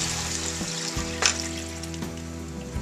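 Wine goes into a pot of vegetables for beef bourguignon, and a steady close sizzle and bubbling follow, with one brief sharp splash partway through and a low hum underneath.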